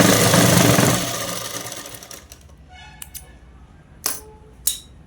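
A sewing machine runs a top stitch on a blouse, a loud close whirring burst for about a second that tapers off, followed by a few sharp clicks and knocks of handling the fabric and machine.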